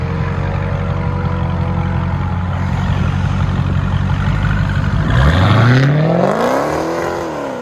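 A Dodge Challenger Hellcat with a supercharged 6.2L Hemi V8, straight-pipe exhaust and valve delete idles close by with a deep, steady, loud rumble, then gives one rising rev near the end. No one speaks.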